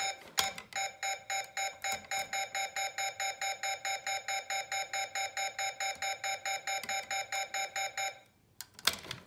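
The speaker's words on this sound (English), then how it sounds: "Although his laser sounds a bit different." A Thinkway Space Rescue Buzz Lightyear toy fires its electronic laser sound: a fast, even run of about thirty shrill beeping pulses, close and loud, that stops abruptly near the end.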